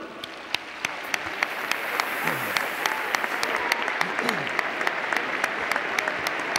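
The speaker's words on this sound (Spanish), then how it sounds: "Ese aplauso cálido para ellos." Warm applause from a large crowd in Mestalla stadium at a legends' match presentation ceremony, steady clapping throughout with a few louder claps and a voice briefly heard beneath.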